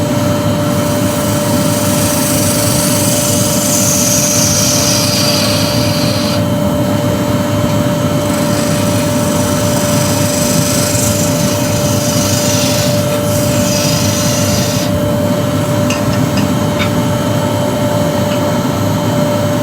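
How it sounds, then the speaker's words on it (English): A wood lathe spins a yew blank for a salt or pepper mill while a parting tool tidies the edges, with a dust extractor running. The result is a loud, constant whirring drone with a steady hum and shifting hiss of cutting on top, and no talk. "we'll just tidy up those edges with the parting tool"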